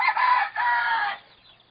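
A rooster on a hacienda farm crows once in a clear, fairly loud call, with a short break partway through before the note tails off into quiet.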